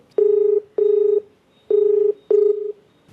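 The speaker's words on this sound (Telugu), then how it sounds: "సో అందుకని ఒకసారి మీతో మాట్లాడిద్దామని కాల్ చేస్తానండి." A telephone dials a call, four clear electronic keypad tones in an uneven rhythm, each about half a second long, close and alone with no talk.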